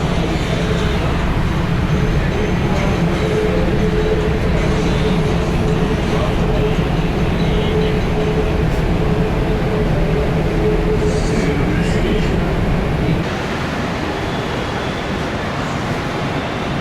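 Steady rumble and rattle of a moving metro train carriage in Jaipur, India, continuous and loud, with people talking faintly underneath.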